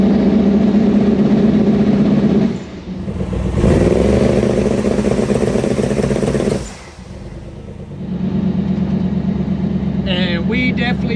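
Twin turbo Hemi engine held on the transbrake in first gear, revving up in two loud surges with brief dips between, then settling to a rough idle, close by.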